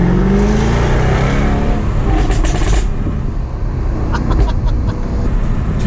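A sports car engine, more aggressive than a V6, accelerates hard and loud, a continuous rising roar from close by, with no talk.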